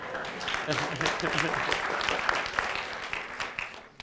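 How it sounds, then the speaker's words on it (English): An audience at a legal lecture gives a round of applause for colleagues, a dense steady patter of many hands at moderate distance, with a few voices talking through it before it thins out. "You're allowed to clap for your colleagues"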